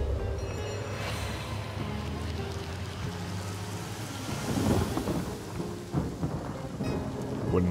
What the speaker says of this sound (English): can I actually make it rain indoors there?